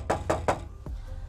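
Knuckles knock on an empty car door panel at a custom car show: three quick hollow knocks close together, a short pause, then one more knock, close and clear.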